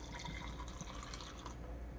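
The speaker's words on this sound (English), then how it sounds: "Pour the liquor." Liquor poured into a glass gives a steady trickling, filling sound for about two seconds, close and fairly quiet, with no talk.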